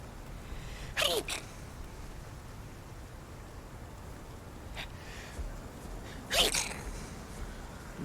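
Two sneezes in the game Path of Titans, a sharp burst near the start and another toward the end, separated by quiet background hiss.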